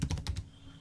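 Quick burst of computer keyboard typing while writing code, several crisp close keystrokes in a short run, then a quiet pause with faint room tone.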